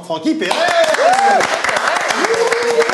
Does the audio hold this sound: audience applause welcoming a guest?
yes